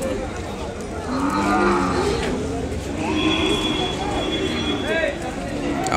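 Cattle mooing at the Kodad livestock market where Ongole bulls are traded, several drawn-out lowing calls rising over a busy crowd with people talking throughout.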